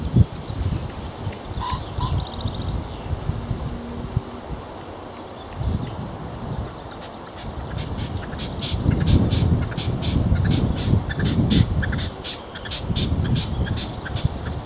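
Repeated harsh, rasping bird calls sound from some distance over steady wind noise and rustling outdoors.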